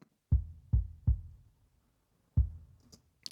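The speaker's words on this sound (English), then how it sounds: "It's a kick sub." A sub kick drum track on a rock kit gives four deep, boomy low thumps, three in quick succession then one after a gap, each with a soft rounded attack and short tail.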